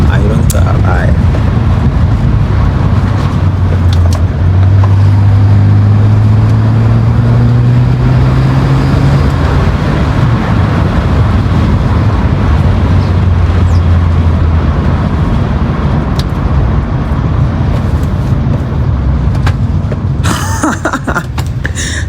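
A 2009 BMW 330i with a downpipe and muffler delete drives with a loud, steady exhaust drone throughout, heard from inside the cabin along with wind noise and some talking.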